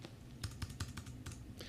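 Keys are tapped on a computer keyboard while entering lyrics in Sibelius 6 music notation software, several quick, soft, close clicks in an uneven rhythm with no talking.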